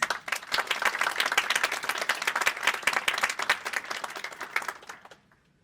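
A hall audience at a Wayne State University Law School ceremony applauds an alumna speaker, giving steady, dense clapping from many hands that carries for several seconds, then fades out abruptly.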